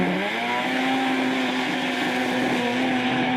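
Nissan R35 GTR drift car chasing a rotary 13B turbo Mimico 180SX at Manfeild Circuit, Feilding: a loud, sustained high-revving engine drone with steady tone and tyre roar, held continuously throughout without talk.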